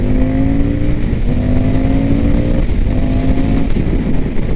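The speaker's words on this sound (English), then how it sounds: "it kind of sounds like an old school thumper when you have that going" An Indian FTR S motorcycle idling on one cylinder, a loud, close, steady low thumping drone like an old single-cylinder thumper, with a slight pitch drift and no talk.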